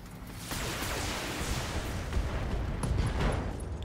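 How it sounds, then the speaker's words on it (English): Ammo explosion in the BattleTech mech video game: a sustained burst of rumbling, crackling blasts with dense low boom and scattered sharp cracks, loud and unbroken for several seconds. "Ammo explosion."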